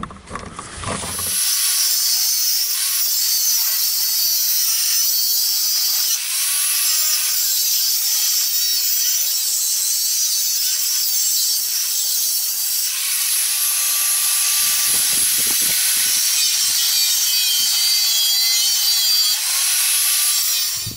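Wood being sawn off with a power tool, a loud continuous whining buzz that runs steadily for about twenty seconds, with the cutting tone wavering as the blade works through the piece.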